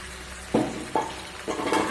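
Fried pointed gourd and fried shrimp being sautéed together in a pan: three quick spatula strokes, each bringing a short burst of sizzle, close and fairly loud.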